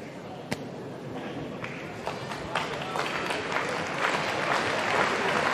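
Crowd applauding at a women's mini-flyweight boxing match, a dense continuous patter of claps that swells slightly toward the end, with a few sharp louder claps standing out near the start.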